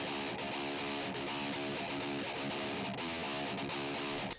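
Distorted guitar DI layer run through Guitar Rig with a wah pedal, a loud, crunchy, saturated tone playing continuously with a shifting, vocal-like filter sweep, alone without talk.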